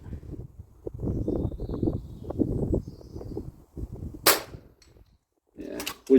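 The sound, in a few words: FX DRS .22 air rifle shot hitting target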